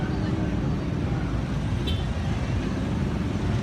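Jammed road traffic on Eid night in Krueng Geukueh, North Aceh, Indonesia: a dense, steady rumble of engines and road noise, with a brief horn-like chirp partway through.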